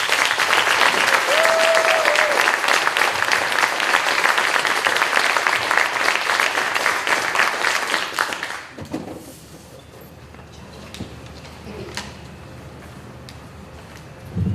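Loud, sustained audience applause at a school committee meeting fills the room for about eight seconds, then stops abruptly, leaving quiet room tone with faint shuffles.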